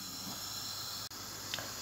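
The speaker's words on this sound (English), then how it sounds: "I also fry my garlic in the oil." Garlic frying in oil for Nigerian jollof rice, a steady soft hiss of sizzling throughout with a brief break near the middle, faint and close, no talk.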